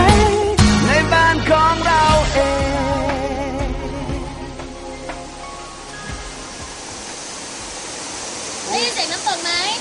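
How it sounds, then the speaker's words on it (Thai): A steady rush of falling water from the Hin Klom waterfall in Thailand fills the background while people talk loudly over it. "นี่แหละที่นี่เขาเรียกว่าน้ำตกหินกลม สวยยังเลยนะ"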